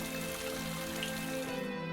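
A rain downpour sound effect hisses steadily at moderate volume, a continuous wash of falling rain with a faint tonal hum beneath it and no voices.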